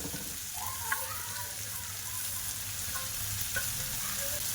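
Fried vermicelli is being stir-fried with chicken spice masala, giving a steady, moderate sizzle with faint scraping of a utensil, close by and continuous, with no talking.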